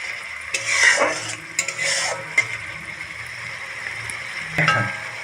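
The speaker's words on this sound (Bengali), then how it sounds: "মশলাটা আমি কষানোর জন্য ছেড়ে দিয়েছি, মশলাটা এখন আমি কষতে দেবো" Spice masala for a fish curry with potato and tomato stir-frying in a pan, soft sizzling under repeated scraping and clinking of a spatula against metal, close and fairly loud.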